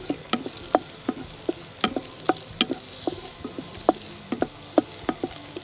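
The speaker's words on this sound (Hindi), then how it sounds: "जब तक ब्राउन हो रहे अनियंस तब तक हमें इसे सॉटे करना" Onions frying and being stirred in a pan for Rajasthani gatte pulao, with scattered sharp clicks and scrapes of a spoon over a soft, steady sizzle, close and moderately loud, no talking.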